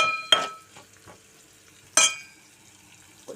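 Tempering for a gongura dried prawn curry frying in a pan: two sharp bursts of sizzle and utensil clatter stand out over a quiet low crackle, with no talk.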